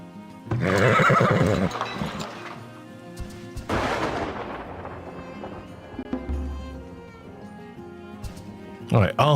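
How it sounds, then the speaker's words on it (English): Horses neighing and whinnying in the Farthest Frontier video game, a loud whinny early on and another partway through over a steady game soundscape, with a brief burst at the end. "our horse's herd is getting better as well"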